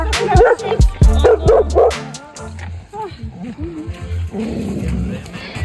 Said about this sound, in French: Accompagné de petits chiens.